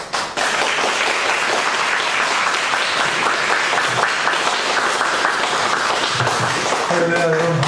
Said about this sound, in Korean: 나오실 때 우리 크게 박수로 환영하였으면 좋겠습니다.